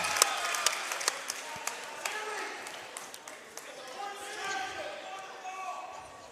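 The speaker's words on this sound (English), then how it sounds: "She'll get a big round of applause." Crowd applauding for a player named Maya in a gymnasium during a girls high school tournament basketball game, sharp claps and cheers over arena echo, with ball bounces and talking underneath.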